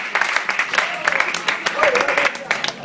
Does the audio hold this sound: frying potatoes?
no